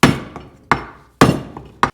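A hammer strikes a part of a BMW E36 188mm limited-slip differential during restoration, four sharp loud metallic blows with ringing decay, spaced irregularly and close by, with no talking.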